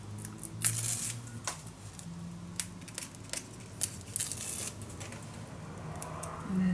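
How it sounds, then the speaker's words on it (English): A paper sticker is peeled off its backing while a baby mini album is being made, giving several brief, close crackling rips and rustles at irregular intervals. "Okay, now peel it off."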